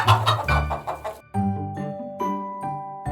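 A chicken clucks several times in quick succession, close by and fairly loud, with no voices.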